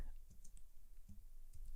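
Computer keyboard typing for a command prompt, a few soft irregular key clicks close by over low background hum, faint and sparse with no talking.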